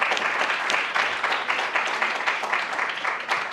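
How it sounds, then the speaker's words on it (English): A crowd applauds steadily for a panel, a dense wash of clapping hands that carries on without a break. "let's just have a round of applause one more time for our panelists."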